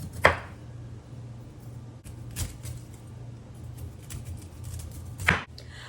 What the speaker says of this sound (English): I've got my broccoli all cut up